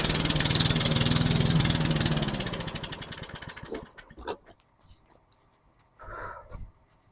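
A small engine on a home-built lawn mower runs with a loud, rapid chugging pulse, then sputters and winds down to stop, followed by a few brief clanks and rustles.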